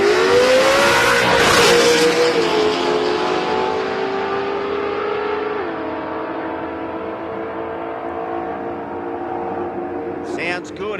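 A drag racing car engine at Willowbank Raceway, Australia, screams at high revs, then slowly drops in pitch and fades, with faint voices at the end.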